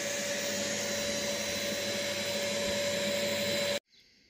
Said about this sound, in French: c'est un aspirateur, 700 watts.